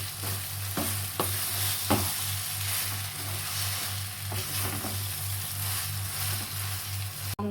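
Semolina (rava) for pulihora is stirred in a pan over steady frying sizzle, with a spoon clacking against the pan a few times, close and continuous with no talking.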